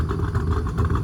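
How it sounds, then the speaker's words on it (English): Car engine fitted with a big cam, idling roughly and a little low while being tuned, a loud, close, lumpy low rumble with an uneven pulsing beat and no talk. "I got the idle going a little better. I can't let it go too low. It's hard to run a big cam at a low idle."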